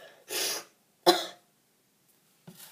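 A few close coughs with pauses between them, a breathy cough, then a sharper one, and a faint third starting at the end.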